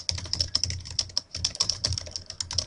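Quick, irregular clicks of fingers typing on a computer keyboard, close and fairly soft, with short pauses between bursts of keystrokes.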